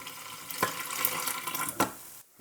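Warm water, about 120 degrees, runs from a tap or pours into the pizza dough mixture as a steady, close splashing stream with a couple of sharper splashes, then cuts off.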